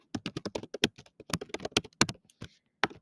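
Quick bursts of keystrokes on a computer keyboard as a design name is typed, a close, irregular run of crisp taps that trails off into a few last isolated presses.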